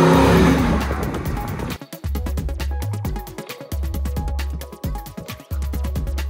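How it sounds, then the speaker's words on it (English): A restored Land Rover Defender 110 with a 430 hp Corvette LS3 V8 and six-speed automatic roars loudly and close, revving and accelerating with deep engine surges, a few short gaps between pulls and some tyre noise. "Gracie is powered by our 430 horsepower LS3 engine with 6-speed automatic transmission."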